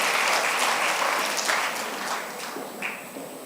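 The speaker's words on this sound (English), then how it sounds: "Let us all give a warm round of applause to the graduate from the Graduate" A large commencement audience gives warm applause for graduates from the Graduate School and School of Medicine, a loud, dense clapping that starts full and gradually tapers off, with a few louder individual claps standing out near the end.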